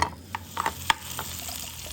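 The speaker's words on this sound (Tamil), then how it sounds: "அதே கடாயில் எண்ணெயை ஊற்றி அந்த பாவக்காயை வதக்கிங்கோ" Bitter gourd sautéing in oil in a kadai, a soft sizzle broken by several sharp scraping stirs of a spatula against the pan, close and clear with no talk.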